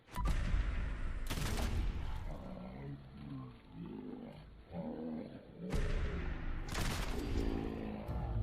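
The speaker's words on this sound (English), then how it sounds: "Quick draw shield Gauss rifle." Gauss rifle fire in Fallout 4 during a let's-play: loud broadband blasts near the start and again around the six- to seven-second mark, with a roaring, rumbling game soundscape between them and no one talking.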